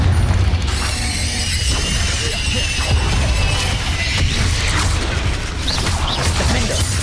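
Loud, continuous game combat soundscape from Hogwarts Legacy with booming explosive spell blasts like Confringo, crashing impacts and magical whooshes layered over a dense low rumble throughout, no talk heard.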